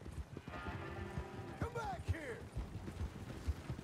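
Horse hooves clip-clop and a horse whinnies in the Red Dead Redemption 2 video game, with soft hoofbeats under talk and a rising neigh in the middle.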